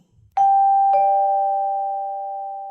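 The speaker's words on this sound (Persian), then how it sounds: "بچه ها، صدای زنگ در است." A doorbell chimes two clear tones, ding then dong, ringing out and slowly fading in an otherwise quiet room.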